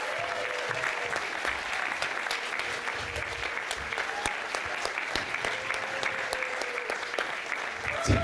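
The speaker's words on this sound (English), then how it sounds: "Come on up and give yourself a round of applause." Sustained applause from a comedy festival audience cheering kids who came up on stage, steady dense clapping filling the room for the full stretch with a few louder individual claps.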